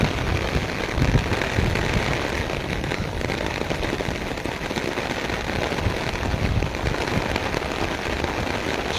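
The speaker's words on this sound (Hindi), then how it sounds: "माशा अल्लाह अच्छी बारिश है" Heavy downpour in Taunsa Sharif, a steady dense wash of rain hitting surfaces, loud and unbroken throughout with no voices.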